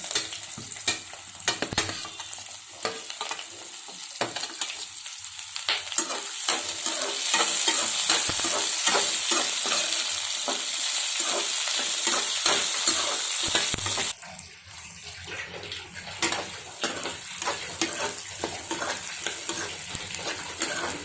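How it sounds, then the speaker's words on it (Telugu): Onions, green chillies and curry leaves frying in a pan for semiya upma, with steady close sizzling and repeated scraping stirs; the sizzle swells louder through the middle, then eases back to spoon scrapes and softer crackle, no voices. "ఉల్లిపాయలు, పచ్చిమిరపకాయలు కూడా వేసి ఫ్రై చేసుకున్నాం."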